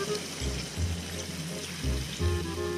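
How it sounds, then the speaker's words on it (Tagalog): Coconut milk is poured into a pot of chicken halang-halang, a steady liquid pour with low gurgling swells that rise and fall over a few seconds, close and clear. "Ito na po yung gata mga parikoy. Buhos po natin."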